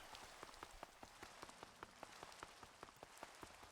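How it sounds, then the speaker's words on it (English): Steady rain patters on a surface with scattered distinct drops in the video game GregTech: New Horizons (Minecraft), soft and continuous with no voices. "Yeah, it is raining slimes again."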